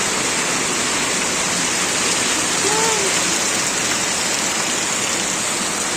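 Heavy rain pours in a dense, steady roar outdoors near a vegetable garden, constant and loud throughout, with a faint brief voice underneath.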